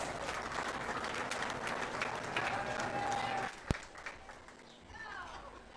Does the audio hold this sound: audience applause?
yes